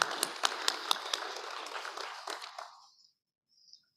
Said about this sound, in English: Please join me in giving him a big round of applause.